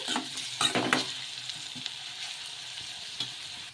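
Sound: stirring carrot and tomato pieces in a frying pan

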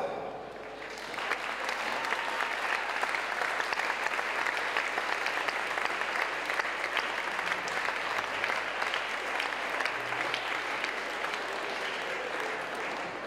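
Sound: audience applause welcoming singer on stage

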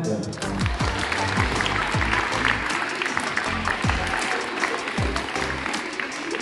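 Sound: audience applauding at a mini volleyball tournament awards

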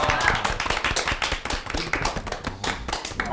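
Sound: applause after a good golf shot

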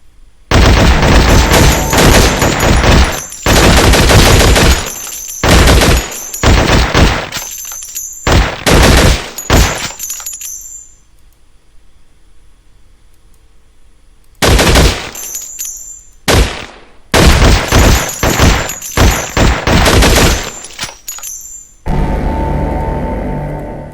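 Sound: gunfire from guns in the video game Infectonator: Survivors

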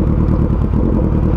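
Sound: motorcycle engine running

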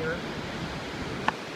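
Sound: ocean waves on a beach at night

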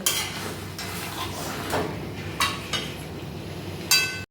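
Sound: marinated chicken being stir-fried in pot on high flame

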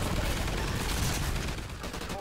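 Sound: turret machine gun firing in Call of Duty Ghosts video game

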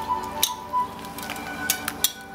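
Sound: mixing cooked shrimp into cocktail sauce

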